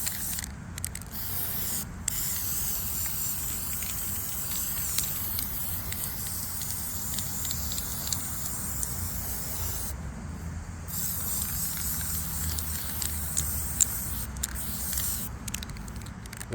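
Aerosol spray paint hisses steadily in a light coat onto aluminum car rims from a 2014 Cadillac ATS, continuous and close with brief pauses, no talking.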